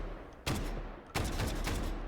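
S12K Saiga-12 Russian semi-automatic shotgun fired in the video game Delta Force Hawk Ops, two separate bursts of rapid booming shots, the second longer, close and loud.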